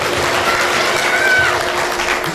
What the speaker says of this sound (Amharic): አጨብጭቡ ለእግዚአብሔር ክብር።